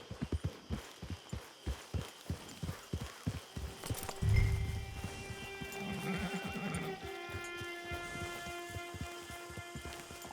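Horse hooves clip-clop in a steady run of beats in Red Dead Redemption 2, then ease off as the horse gives a clear whinny, with a faint patter like rain in the background.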